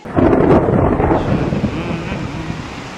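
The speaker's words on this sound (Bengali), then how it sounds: "আজকে ঝড় বৃষ্টির দিন" A loud, close thunderclap rolls out in a deep rumble that fades over a few seconds during a rainy storm.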